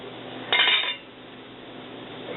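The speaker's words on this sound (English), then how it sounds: "then we just take the lid off the crock pot," A crock pot lid comes off with one sharp clink of glass or metal, a short ringing clatter that fades within half a second in a quiet kitchen.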